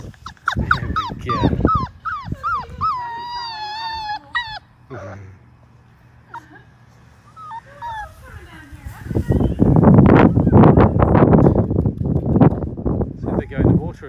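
High-pitched Labrador puppy whimpers and yips rise and fall up close, then fade before a burst of splashing as the puppies enter a swimming pool and a person talks over it.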